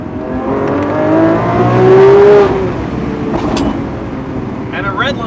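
Lamborghini Aventador SVJ Roadster exhaust revving, a loud rising engine note with harmonic tones that swells and fades over a few seconds, with a voice talking over it.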